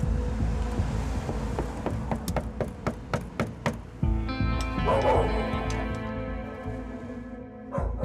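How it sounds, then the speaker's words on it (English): Two large dogs bark in a rapid, evenly spaced series close by at a squatted property, then the barking gives way to whimpering and other noises. "It isn't just the two large dogs that Paul's worried about."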